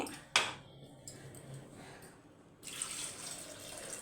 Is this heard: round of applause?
no